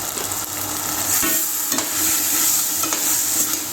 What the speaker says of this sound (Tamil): ஒரு 2 நிமிஷம் வதங்கட்டும்